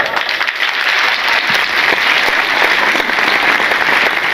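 An audience at a religious speech event claps loudly and continuously, a dense sustained roar of many hands without pause.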